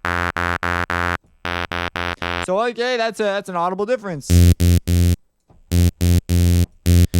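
Repeated bursts of a harsh, buzzy saturated tone pulse on and off in short groups, with someone briefly speaking between them.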